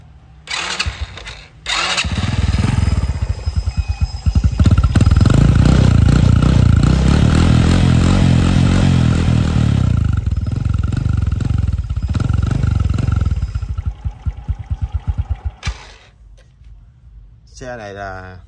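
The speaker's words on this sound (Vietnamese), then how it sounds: "Rồi, để em nổ máy test tiếng cho anh em nha." A Honda Wave 110 motorcycle engine from 1999 cranks and catches, then runs loudly at close range with a rough, throbbing idle and a few revs before cutting off near the end.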